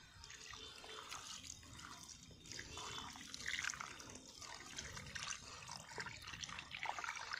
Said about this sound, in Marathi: त्याला पाणी घालून आपण व्यवस्थित स्वच्छ करून घेणार आहोत